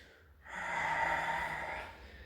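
A person taking one long breath in during a Pilates exercise, a soft airy inhale swelling and fading over about a second and a half, close and alone.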